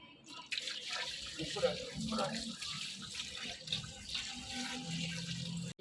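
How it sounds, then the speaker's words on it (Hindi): Milk poured into a kheer pot set over an open wood fire, a steady liquid splashing and trickling that runs nearly six seconds with a faint crackle and background talk underneath. "अब हम इसमें पतीला हमने ऊपर रख दिया और ये हम दूध इसमें डालेंगे"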